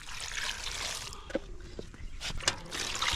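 Cut goat tripe rinsed with water, a steady close trickling and splashing with a few light knocks, moderately loud and continuous.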